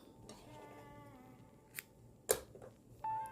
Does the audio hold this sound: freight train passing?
no